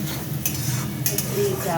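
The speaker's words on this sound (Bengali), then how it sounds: "পেঁয়াজের সঙ্গে চালটা ভাজা ভাজা করে নিলাম মশলার সঙ্গে।" Rice is fried in oil with onion, bay leaf and spices, giving a close, busy sizzle with a utensil scraping and clinking against the pan in short strokes.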